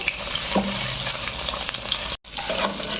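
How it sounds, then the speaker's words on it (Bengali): Two green chillies fry in a pan with a soft, continuous sizzle and a few faint stirring scrapes, heard close and alone before a brief cut to silence. "দুটো কাঁচা লঙ্কা একটু ভেজে নেব"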